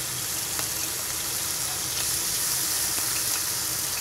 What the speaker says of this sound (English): we start off by putting the meat into the pan and frying it off.